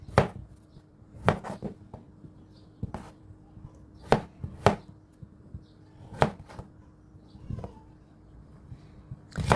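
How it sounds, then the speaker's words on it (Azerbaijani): A knife chops potatoes into rings on a cutting board. About a dozen sharp, close cuts land at an irregular pace against a quiet kitchen background. "Kartofları halqavari doğrayıram."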